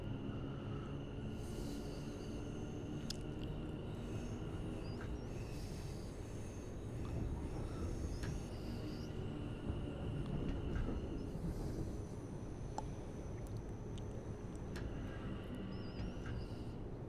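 Train in the Train Sim World game entering East Ham sidings, with a quiet continuous rolling rumble and faint high whines and squeals overhead, steady throughout with no talk.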